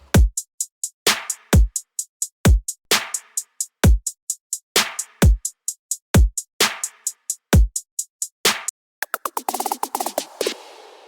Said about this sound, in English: So all the drums together, they sound like this.